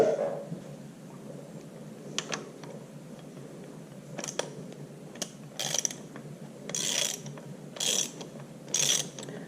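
A ratchet wrench tightens a bolt on the engine front plate of an IHC Farmall Super MTA tractor under restoration, giving short bursts of clicking ratchet strokes that grow more frequent and louder toward the end, with no talk.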